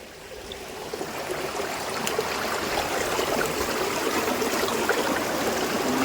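Steady rushing and trickling of a flowing stream, continuous and fairly close, with no voices.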